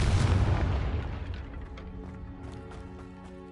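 A Confringo spell blasts in Hogwarts Legacy on PS5. One heavy, close boom rolls out and fades, leaving game music underneath.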